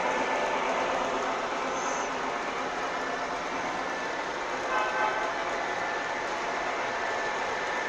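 A Canadian National 100th-anniversary model train locomotive runs along the track through a double crossover, a steady faint rolling hum with a brief higher tone partway through.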